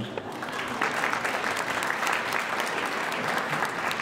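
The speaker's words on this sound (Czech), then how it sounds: "Ještě jednou můžete zatleskat." Ballroom audience at a media ball in České Budějovice claps for a radio swing orchestra after a number, a steady, moderately loud patter of many hands filling the hall without a break.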